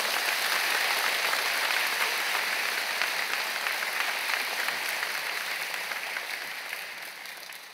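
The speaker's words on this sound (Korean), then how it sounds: "큰 박수로 환영하시길 바랍니다" At a Sunday worship service, the church congregation applauds to welcome newly ordained pastors, a thick, continuous wash of clapping that slowly tapers off.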